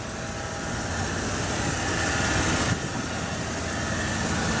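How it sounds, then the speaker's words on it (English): A car engine idles steadily with a rhythmic light squeak from a slightly worn belt, close and continuous, a brief bump near the middle, no talk. "The belt's squealing a little bit right now, barely, just kind of squeaking, not squealing, but that goes away."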